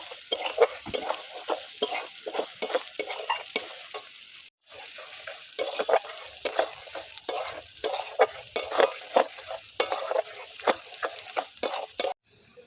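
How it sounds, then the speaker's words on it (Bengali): Chopped onions frying on low heat in oil left from frying chicken, with a rhythmic run of stirring strokes and scrapes over a soft continuous sizzle, close by and without speech. "অল্প অল্প জালে ভাজতে হবে।"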